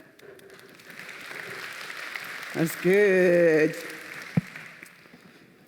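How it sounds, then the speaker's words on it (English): Audience applause at a keynote speech, a soft spread of clapping from a crowd running under and around a voice that briefly speaks. "Please clap."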